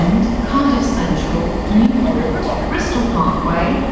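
Steady rumble and clatter inside a moving train carriage between Bristol and London Paddington, with muffled voices and a tannoy-like announcement of stops mixed into the continuous background noise.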